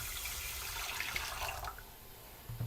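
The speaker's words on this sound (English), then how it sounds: "I'm going to add the water" Two cups of water pour into a cooking pot holding millet, a steady close splashing rush that thins and fades near the end.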